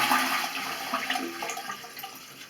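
A toilet flush rushes and gurgles nearby, the water noise gradually fading as the tank drains.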